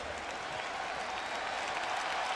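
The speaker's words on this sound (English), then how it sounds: "The fans applaud the Marquette Golden Eagles as they go off the floor at halftime." Basketball fans at an arena applaud as Marquette's team leaves the floor at halftime, a steady, distant wash of crowd clapping that holds throughout the short stretch.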